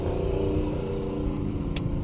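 Traffic on a busy Sunday road rumbles past a small roadside shop, with engines droning and revving steadily at close range, a car or motorcycle pushing by loudly and continuously, and a brief sharp click near the end.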